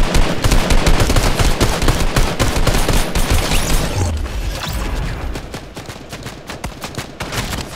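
Rapid bursts of gunfire from a Fortnite duo match crackle loudly and continuously, dense for the first half and thinning into scattered shots toward the end.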